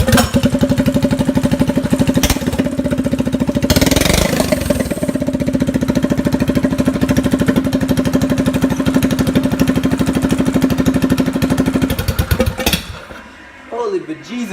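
A homemade mini bike engine starts and idles close by, a loud steady rapid putter that holds for about twelve seconds before cutting off, with a voice heard over it.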